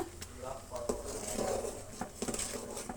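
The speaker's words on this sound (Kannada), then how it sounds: "ಮಿಕ್ಸ್ ಮಾಡ್ಕೊಂಡ್ಬಿಡೋಣ ಚೆನ್ನಾಗಿ, ರವೆ ಕೂಡ ಮಿಕ್ಸ್ ಆಗಲಿ." Semolina being stirred into boiling sugar syrup in a pot for sweet barfi, a close spoon-scraping and light bubbling patter with intermittent clinks of utensil against the pot.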